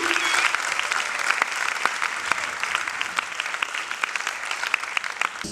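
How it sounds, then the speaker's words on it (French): An audience in a hall applauds the winners of a talent award ceremony, giving loud, sustained, dense clapping with a few sharp individual claps standing out near the front. "Vous pouvez les applaudir encore une fois parce que c'était intense."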